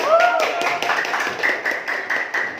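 Students in a classroom applaud a group with quick, fairly regular claps that sound close and steady throughout, and a brief whistle-like tone rises at the very start.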